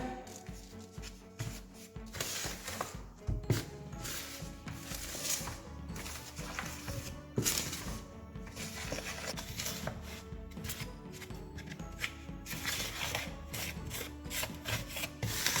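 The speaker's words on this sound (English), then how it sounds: "So mix your dry ingredients together" Dry ingredients for puff puffs, including flour and a pinch of nutmeg, are mixed in a bowl, giving continuous close scraping and rubbing with rhythmic strokes and occasional knocks.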